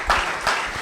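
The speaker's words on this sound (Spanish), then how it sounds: "cuántos le dan un fuerte aplauso al Señor?" Church congregation applauds during a Spanish-language sermon, a short burst of clapping with a couple of stronger swells, fairly close.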